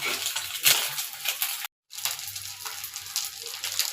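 Small mola fish fry in a pan with a loud, close, crackling sizzle and sharp pops. The sizzle stops for a brief moment, then resumes.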